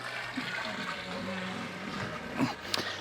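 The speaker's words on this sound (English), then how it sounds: "we'll let that drain for a little bit until sparge water is heated up" Wort draining from the grain basket of an Anvil Foundry 10.5 brewing system during a grapefruit witbier brew day, a continuous soft trickle and splash of liquid with a few brief drips.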